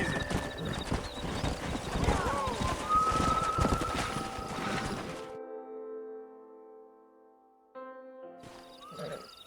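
Horses in the Red Dead Redemption video game clop along with busy, overlapping hoofbeats and a whinny, close and loud. A voice speaks briefly before the sound drops to near silence and a few sustained tones.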